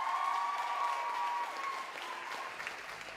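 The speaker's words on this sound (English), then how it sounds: "Give her a clap" Applause from a school audience at a high school music show for a student performer, steady clapping that starts strong and gradually thins out, with faint voices from the crowd underneath.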